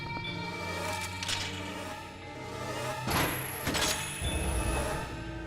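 An approaching creature in Zelda: Twilight Princess makes a dense, swelling game sound with layered tones and thumping bursts that build in intensity, heard alone without talk.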